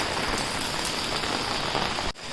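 Heavy rain pouring down, a dense, steady hiss close to the microphone, continuous until a brief dip near the end.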